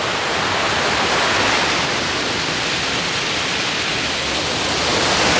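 A small waterfall near Thurkapally rushes in a steady, loud, broadband roar of pouring water that stays constant from start to finish with no voices.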